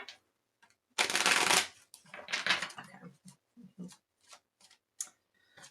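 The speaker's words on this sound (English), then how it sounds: "One more shuffle." Tarot cards are shuffled close by, with a loud riffling burst followed by softer irregular flicks and taps of the cards being handled.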